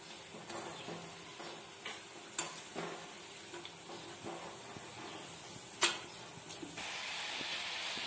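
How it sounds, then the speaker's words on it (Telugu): Homemade French fries frying in hot oil, a soft steady sizzle and hiss close by, punctuated by occasional clinks and scrapes of stirring, with no voices. "ఇంకొక 5 సెకండ్లు వేయించి తీసేసుకుందాము"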